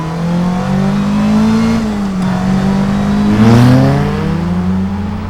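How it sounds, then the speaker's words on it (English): A 2019 Caterham 310R's 1.5 litre engine revs hard, its loud, close exhaust note rising and falling in a sustained drone, briefly swelling higher near the end. "You need to rev it, and when you do rev it, it's just a bit of a monster."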